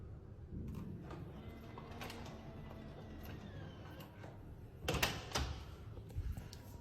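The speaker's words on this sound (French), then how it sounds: "je peux ouvrir ma porte" A Nuki Smart Lock 3.0 Pro on a front door unlocks after a fingerprint on the Keypad 2.0, giving a quiet motorized whir, then a few sharp mechanical clicks and clunks of the bolt retracting, close and fairly faint.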